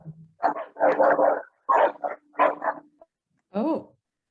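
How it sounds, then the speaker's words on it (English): A dog barking somewhere nearby in a series of short, fairly clear barks and yips with brief pauses between them. "Oh, is that someone's dog?"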